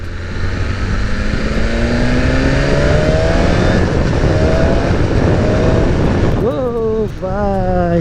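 A BMW S1000RR superbike engine with no exhaust fitted revs loud and close, its pitch climbing and falling in repeated sweeps, with sharper rising revs toward the end.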